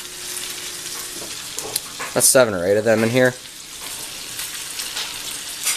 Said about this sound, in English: And as they cook, I'll use a spoon to break them up too.